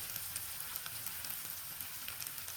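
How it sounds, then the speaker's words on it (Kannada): Onions and green chillies fry in a pan with salt, giving off a soft, steady sizzling hiss with faint crackles throughout. "ಈರುಳ್ಳಿ ಚೆನ್ನಾಗಿ ಫ್ರೈ ಆಗುತ್ತೆ"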